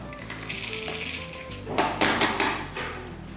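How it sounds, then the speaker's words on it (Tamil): Dry spices rattle and scrape in a hot pan over a slow flame, with stirring clatter and light sizzling, louder in bursts in the second half. "ஸ்லோ ஃப்ளேமில் வச்சுட்டு இதை வறுத்து எடுத்துக்கலாம், கருக விட்டுறக்கூடாது"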